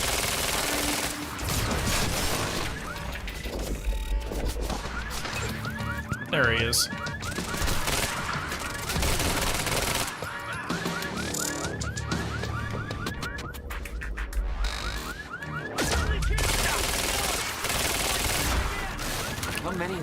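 Gunfire in the Quantum Break video game, a dense, loud stretch of repeated shots and bursts running through a busy combat mix, with someone talking over it.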